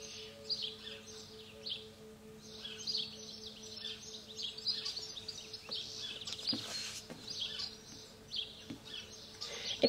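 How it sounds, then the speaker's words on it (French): Small birds sing outdoors in a quiet, distant chorus. Faint, overlapping chirps and trills carry on throughout over a low steady hum, with no talking. "Laissez-vous transporter par les petits oiseaux qui chantent."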